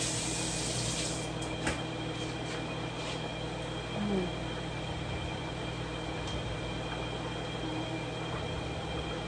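Water runs steadily from a tap while something is rinsed off during pasta cooking, a continuous close hiss with a brief clatter, no one talking.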